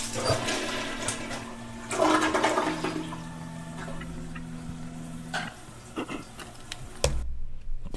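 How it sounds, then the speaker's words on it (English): A toilet flushing pills away in a song: a close, loud rushing flush with gurgling water swirling down, then a sharp cutoff. "You heard him there at the end flush those, flushing the pills down the toilet"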